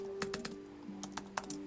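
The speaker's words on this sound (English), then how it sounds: "Should be typing this just so I know the timestamps." Someone types on a computer keyboard in two short bursts of close clicks over a faint steady hum.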